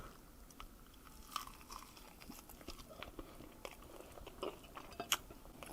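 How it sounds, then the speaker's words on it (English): Quiet, close chewing of a chicken wing coated in hot sauce, with soft irregular crunches and bites, muffled as though the microphone is partly covered. "I'm going to try to cover the mic so I don't sound too disgusting while I'm chewing on this."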